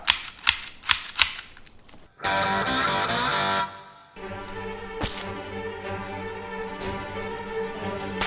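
Toy guns from a 2023 batch of trending TikTok toys fire in a quick burst of sharp cap-like pops, followed by steady mechanical rattling and whirring with occasional clicks, close and fairly loud.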